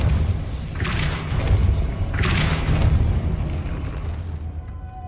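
The Depulso spell in Hogwarts Legacy lets out two deep booming blasts about a second and a half apart over a loud rumbling game background, fading to quiet at the end.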